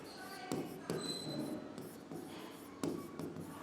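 Chalk or marker taps and scratches on a board during a Hindi class-10 physics lecture on light reflection, in short, irregular strokes with sharp impacts, close and clear, while the lecturer talks over it.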